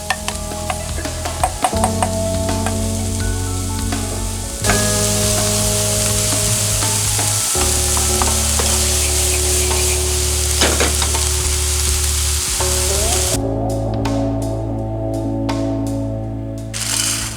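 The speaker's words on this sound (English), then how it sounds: "Heat a pan and add 1 tablespoon of butter. Saute the onion until it becomes wilted." Onion sautéing in butter in a hot pan, a steady loud sizzle with frying crackle running throughout, punctuated by occasional utensil scrapes and stirring clatter, with no voices.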